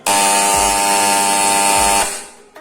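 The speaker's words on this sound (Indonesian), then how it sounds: "Ini ada alarm kalau listrik PLN nyala." A generator transfer switch alarm sounds a loud, steady electronic buzz for about two seconds when mains grid power is on, then cuts off, with a short faint tail afterward.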